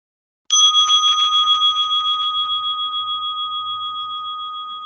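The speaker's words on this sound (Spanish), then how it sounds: "Ahora vamos a escuchar de nuevo la campana para hacer el segundo momento." A single clear strike of a meditation bell rings out after a brief silence, its bright tone sustaining and slowly fading with a gentle shimmering pulse, alone in a quiet room.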